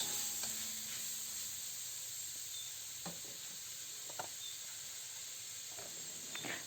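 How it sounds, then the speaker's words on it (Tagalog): Sliced chayote and tomato sizzle steadily in a hot pan, with several distinct scrapes and clacks as a utensil stirs them. No one speaks. "Ilagay na natin ang hiniwang sayote. Haluin lang natin yan."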